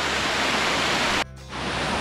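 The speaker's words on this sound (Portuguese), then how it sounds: "chegamos à nossa terceira queda. E o rio vai descendo, fazendo várias piscininhas." A river waterfall near Paraty cascades into a series of pools, making a loud, steady, close rush of falling water with a brief dip partway through.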